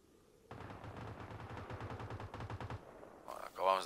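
A rapid burst of automatic gunfire in PlayerUnknown's Battlegrounds on PS4, a string of evenly spaced, fairly distant shots lasting about two seconds, with a brief voice right after.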